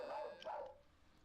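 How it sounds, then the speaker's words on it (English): A dog lets out a couple of short, quick barks, fairly faint and somewhat distant, heard on their own with no talk over them. "The dog's trying to get in on the fun."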